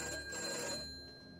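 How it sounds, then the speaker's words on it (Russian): A red telephone rings in the video game Agent Roswell, a short electronic ring that stays steady and fairly loud, heard alone without talk. "Звонит красный телефон."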